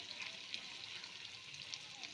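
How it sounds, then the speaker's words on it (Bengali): Papaya koftas fry in oil over a medium gas flame, giving a quiet, even sizzle with soft crackles and no voices. "এক পিঠ ভাজা হয়ে গেছে, উল্টে দেব, আর গ্যাসটা কমিয়ে এটা ভাজবো"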